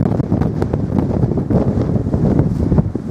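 Strong wind buffets the microphone in continuous low, rumbling gusts beside a frozen lake in Chile, with a faint watery wash behind it and no talking.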